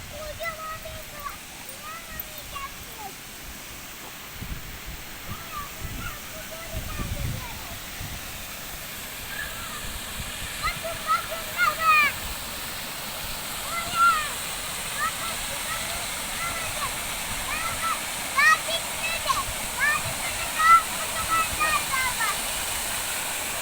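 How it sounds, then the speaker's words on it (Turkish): Water flowing from one of the tributary springs at the source of the Gediz River in Kütahya, a steady rushing wash running throughout, moderately near, with occasional faint voices and brief high chirps over it. "Bu su Kütahya Gediz nehrini oluşturan sudan bir tanesi, kollardan bir tanesi."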